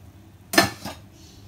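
A metal lid comes off a pot of boiled lentils for dal fry with one sharp clang, followed by a softer clink a moment later, then quiet.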